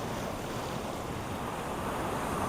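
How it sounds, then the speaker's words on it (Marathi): Sea waves wash steadily over the wet sand at Mithmumbari beach, a soft continuous roar with some wind noise and no breaks or voices. "समुद्राची लाटा बघ कसली मस्त वाटतायत."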